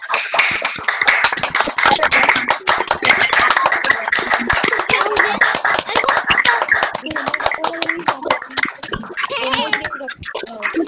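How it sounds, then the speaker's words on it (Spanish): Online audience applause for Paula Mendoza after a talk, with many unmuted microphones giving sharp, uneven clapping close up, loud and ragged, and voices mixing in toward the end. "vamos con ese aplauso para Paula Mendoza que nos acompañó hoy día"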